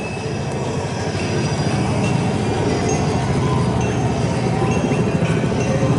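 Model railway train running at Legoland Windsor, a steady, close rumble of small wheels clattering rhythmically over track joints, with faint metallic squeals and clinks and no pauses throughout.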